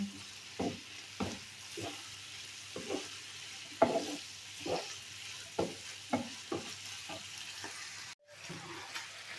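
Meat sizzles quietly in a pan while a utensil stirs and scrapes in regular strokes, each stir bringing a brief burst of crackling.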